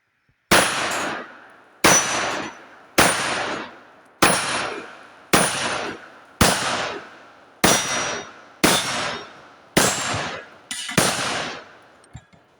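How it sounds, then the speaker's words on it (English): A 9mm pistol fires Mead frangible ammunition at steel targets outdoors, about nine sharp, loud shots spaced roughly a second apart, each with a ringing decay and the last two close together. "we're going to try it at some steel and see how it functions out of a pistol"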